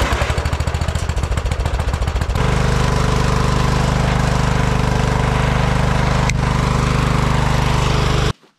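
Simplicity riding lawn mower cranks with a rapid starter chatter for about two seconds, then its engine catches and runs loud and steady close by before cutting off abruptly.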